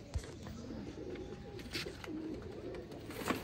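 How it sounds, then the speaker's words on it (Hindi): Pigeons coo softly in a loft, low murmuring calls repeating over a faint background hum. "कबूतर दिखाने जा रहा हूँ आपको"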